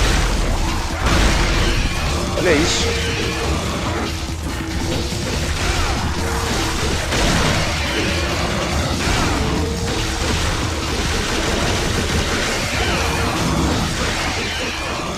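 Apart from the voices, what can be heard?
grenade launcher explosions in Devil May Cry video game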